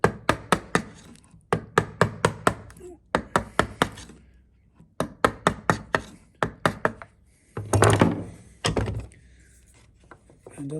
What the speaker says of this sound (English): Take my chisel round the correct way, take off the corner, begin to angle the chisel up